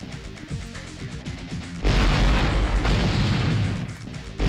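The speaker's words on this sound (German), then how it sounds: "Natürlich. Muss er explodieren." Explosion in the PS1 video game Apocalypse: after some lighter game sounds and small pops, a loud booming blast erupts midway and rumbles on thickly for a few seconds before fading slightly.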